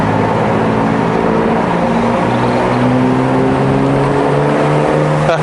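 A 2011 BMW 640i F12 accelerates steadily, its engine tone climbing in a smooth, sustained drone, loud and close with no pauses.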